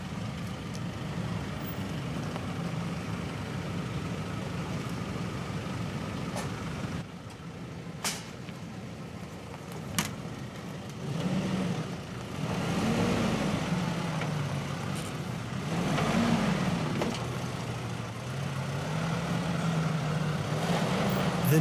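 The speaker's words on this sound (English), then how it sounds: "The Nissan grinds to a halt, with the electronics doing their best to maintain forward momentum." A Nissan Pathfinder 4x4 without a rear differential lock labors over an off-road obstacle, its engine droning and rising and falling in surges. Sharp clanks and knocks from the vehicle break through at intervals.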